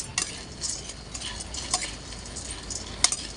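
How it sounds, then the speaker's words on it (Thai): Peanuts dry-roasting in a pan, scraped and stirred with a utensil, giving soft gritty rustles with occasional sharp clinks of metal against the pan, close by and fairly quiet, with no one talking. "ขั้นตอนต่อไปมาคั่วถั่วลิสงกันเลยค่ะ"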